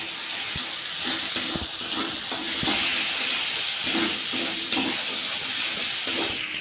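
Ground coriander, cumin and Kashmiri chili powder fry in a pan for a banana-flower curry while a spatula stirs them. A steady sizzle carries intermittent scraping clicks, close up and with no one talking.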